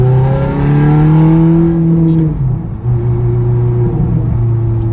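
Ferrari 430 pulling hard in first gear, its engine note climbing loud and close, then dipping briefly at the shift before a steady drone carries on, with no talk over it.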